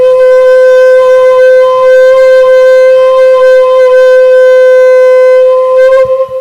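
A conch shell blown in a religious recitation setting sounds one loud, sustained, steady horn-like tone with rich overtones, held alone for about six seconds before breaking off at the end.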